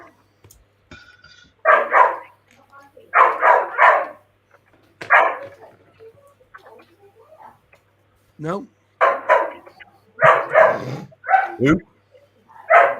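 A dog barks in several short bursts of two or three sharp barks, with a whimper or yip between them, close to the microphone, and people talk over and between the barks.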